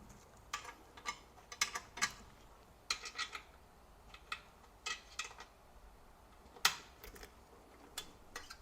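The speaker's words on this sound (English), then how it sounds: "I'm going to tighten both sides." Allen key turning and tightening the bolts on both sides of a budget heat press, giving a series of sharp metallic ticks and clicks in irregular bursts, close and fairly quiet, with no talking.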